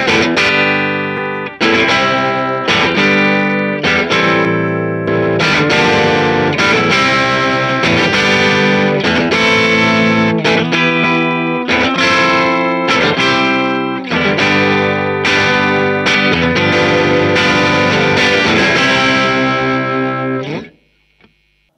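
Electric guitar run through a distortion pedalboard, alternating between two closely matched drive tones, one cleaner and brighter, the other a vintage-style pedal with more push; loud, continuous chords and riffs stopping abruptly near the end.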